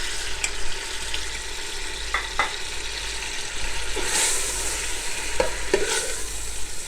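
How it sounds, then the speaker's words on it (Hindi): Beef mince frying in oil in a pan, a steady close sizzle with intermittent scraping clicks of stirring throughout, no talk. "इसको आप ऑयल में अच्छे तरीके से फ्राई कर लें कीमे को"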